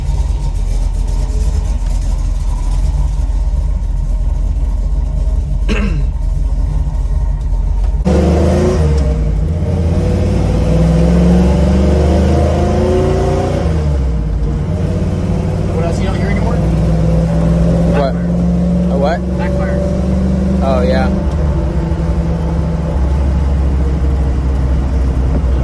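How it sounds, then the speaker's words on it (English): A 1968 Ford Bronco V8 with a custom MC2 exhaust and new carburetor idles with a deep, burbling exhaust note, then revs up and settles, loud and close, with people talking over it. "this is a 1968 Ford Bronco with a custom MC2 exhaust"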